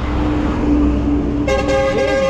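A bus rumbling past close by on the road, then sounding a loud sustained horn blast near the end, with no talking.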